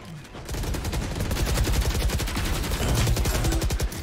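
Rapid automatic gunfire in a multiplayer shooter video game, loud and continuous bursts of rattling shots layered over one another for several seconds, with no talk over them.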